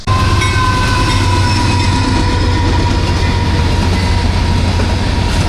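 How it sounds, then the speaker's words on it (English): A train rolls past close to a Missouri River boat ramp, a loud continuous rumble with steady rail noise and tonal hum filling the whole stretch. "Another train."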